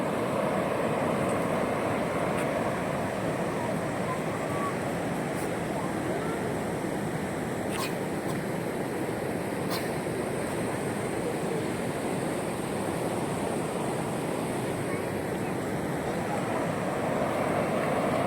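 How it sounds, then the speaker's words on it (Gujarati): Water rushes out through the gates of the Umiya Sagar dam in a steady, continuous roar that never lets up, with wind buffeting the microphone. "આ ગેટ ગેટેથી સીધું પાણી જાય છે"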